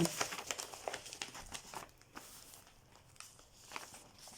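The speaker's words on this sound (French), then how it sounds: "On va ouvrir. Alors, c'est un sachet zippé." Plastic zip-lock bag from a cross-stitch kit pulled open and handled, with crinkling and rustling close by that is loudest at the start and then settles into softer crackles.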